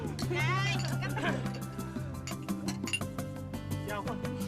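Glasses clink together in a toast during a drink indoors, several sharp, bright clinks heard over people talking.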